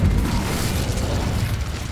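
Incendio fire spell cast in Hogwarts Legacy: a loud, rumbling whoosh-like burst that sustains for a couple of seconds with a deep low-end body.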